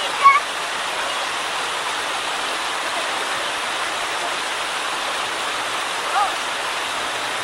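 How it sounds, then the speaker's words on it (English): Moose Falls, a small waterfall on a river in Yellowstone, pours with a steady, loud, unbroken hiss and rush, constant and close throughout, with only a brief bump of other noise near the start. "little waterfalls. It's called Moose Falls, and I think it's just beautiful"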